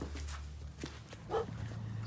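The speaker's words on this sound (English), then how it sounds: "Puppies." A young puppy in a small litter whimpers and gives a faint yip, quiet and close, over a steady low hum in an indoor setting.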